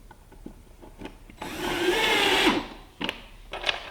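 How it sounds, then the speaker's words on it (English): A power screwdriver drives screws into a gray table set in an alignment jig, one steady whirring run of about a second, then brief clicks and short bursts, close and fairly loud with no talk. "All you got to do is put screws in."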